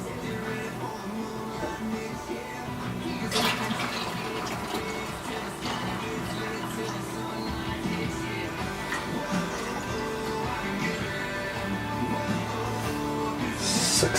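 Liquid being poured steadily for hard apple cider, 8.5 quarts in all, a continuous close splashing flow that runs throughout with a few brief clatters.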